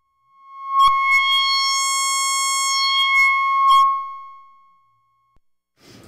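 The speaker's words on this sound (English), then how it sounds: "Turn the resonance up so you can hear it." A Dewanatron Novitiate synthesizer plays a sustained sawtooth tone with its filter resonance turned up high, a bright buzzing note with a ringing resonant peak, loud and steady for about three seconds before fading out, with no talk over it.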